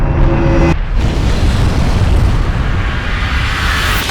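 A minor eruption of Taal volcano in the Philippines is heard as a loud, sustained roaring rumble with a deep boom that fills the whole stretch, no voices over it.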